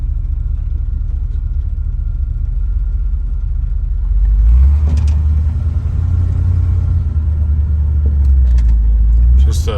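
A 1977 Chevrolet K10 truck with a 350 turbo three-speed automatic idles with a low rumble, then its engine swells louder as it pulls away and drives on, with someone talking over it.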